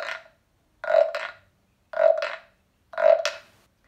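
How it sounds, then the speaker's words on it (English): Frog-shaped wooden güiro scraped four times in an even rhythm, each stroke a short rasping croak with a double ridge, close and clear with silence between. "This is a froggy güiro. It's shaped like a frog and it sounds like this."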